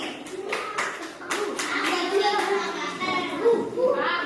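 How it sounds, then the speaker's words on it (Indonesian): Brief clapping from an elementary school class for Mbak Naomi during a science lesson on the water cycle, a few hand claps mixed with children's voices and a teacher talking. "Oke, tepuk tangan buat Mbak Naomi."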